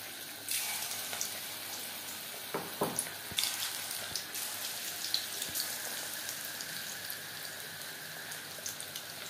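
Chicken pakoras in chickpea-flour batter dropped into hot refined oil, giving a steady close sizzle and crackle with small pops and bursts.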